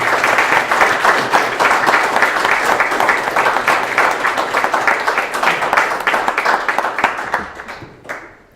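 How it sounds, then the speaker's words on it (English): Audience applause for speakers at a Startup Grind Bratislava event: a loud, dense wash of many hands clapping steadily for several seconds, then tapering off to a few scattered claps at the end. "Ladies and gentlemen, a round of applause for them"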